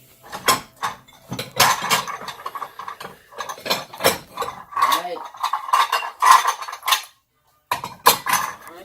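Noodles and meat are served into a bowl with a clatter of utensils, a close series of irregular scrapes, clinks and taps against the dish with brief pauses.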